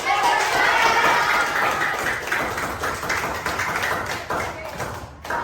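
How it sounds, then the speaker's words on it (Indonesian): A school class applauds its teacher in the classroom with dense, steady clapping that runs for about five seconds, while voices mix in underneath and the clapping thins slightly near the end. "Berikan tepuk tangan."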